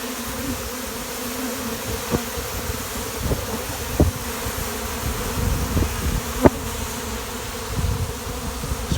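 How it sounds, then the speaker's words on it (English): Honeybees swarming outdoors over bare ground, a dense, steady buzz of many insects carrying throughout, with occasional louder individual bees passing close by. "Swarming is the most exciting time for the bees."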